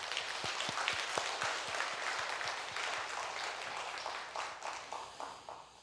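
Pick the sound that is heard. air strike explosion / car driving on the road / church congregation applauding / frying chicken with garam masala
church congregation applauding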